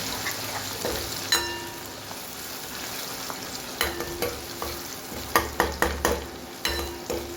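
A spoon stirs onion and potato curry in a hot pan, sharp scraping clinks scattered over a steady close sizzle, with a cluster of quick taps near the end and no voices.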